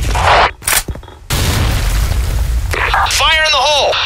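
A grenade blast in the online shooter Soldier Front booms as a loud, broad roar lasting over a second amid game noise, followed by voices shouting over the fading rumble.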